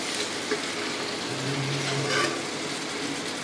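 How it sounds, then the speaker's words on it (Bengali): Spicy meat, poured into a pan at an indoor room picnic, sizzles in a steady, fairly loud hiss while it is stirred, with no talking over it. "ঝাল মাংস ঢেলে দিলাম। এখানে নাড়াচাড়া করবো।"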